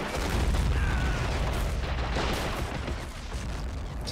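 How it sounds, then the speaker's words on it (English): A grenade explosion in the real-time strategy game Men of War: Assault Squad 2: a loud, dense burst with rumbling battlefield booms and crackling debris that gradually fade, with no voices over it. "I think I can get a nice grenade off here."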